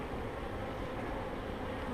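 Honeybees droning steadily at an open, well-breeding hive during a spring inspection, a continuous low buzz that stays even and fairly faint throughout.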